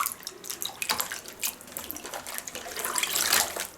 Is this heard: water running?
yes